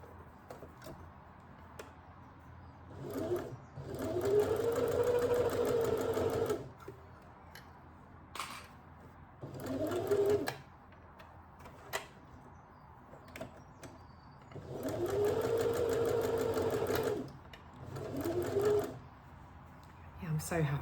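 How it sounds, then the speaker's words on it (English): A sewing machine stitching bias binding onto a dress runs in several loud, close whirring bursts of a few seconds each, separated by quieter pauses with faint handling noises. "So yeah, I'm going to just sew that now."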